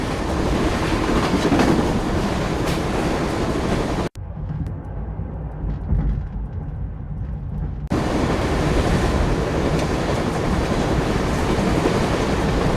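Speeding train compartment in the game Secret Files: Tunguska: a loud, steady rumble with rattling clickety-clack that drops abruptly to a quieter, muffled hum for a few seconds, then surges back to full volume. No voices.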